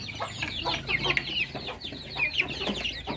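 Chickens and chicks on a farm, with soft clucking and high peeping chirps scattered continuously at close range over a low background.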